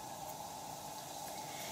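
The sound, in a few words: onions and cumin seeds sizzling in oil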